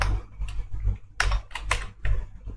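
Code is typed on a computer keyboard in quick clusters of close, crisp key clicks, with short pauses between the bursts and no talking.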